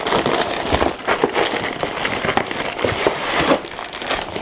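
A Too Good To Go burger package is torn open and unwrapped, with loud continuous crinkling and rustling of packaging close by for several seconds.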